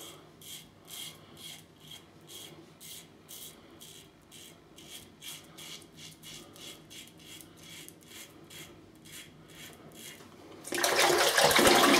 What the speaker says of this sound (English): Just shaving past my ear there